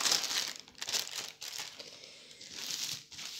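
Crinkling and rustling of plastic packaging as a large diamond painting accessory package is opened, close and continuous with brief pauses.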